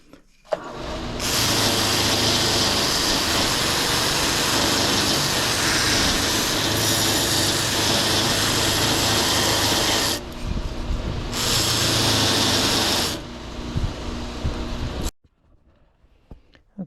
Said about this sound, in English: Here we are at the sand flea with my mop sander, and I've also got a regular sander on top here, which will clean this up a little bit for us.